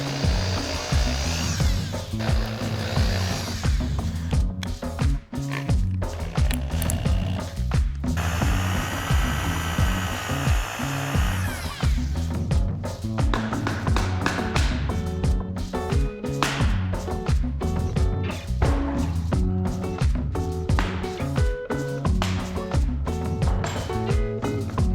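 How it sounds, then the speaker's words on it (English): A power drill whines and grinds continuously into metal, drilling out rivet heads on a Honda CB750F exhaust, with a sustained high-pitched whirring stretch in the middle and choppy bursts afterward. "Just drill until the head comes off."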